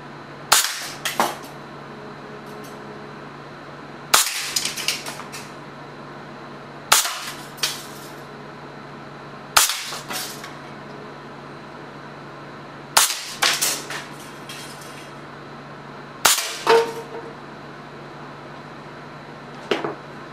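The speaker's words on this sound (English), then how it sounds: "Six shots, six targets at 10 meters, hit them all" Six sharp shots from a modified .25 caliber BB pneumatic air cannon with an electronic breech, fired at 10-meter targets, each crack spaced a few seconds apart and followed by quick impact clatter.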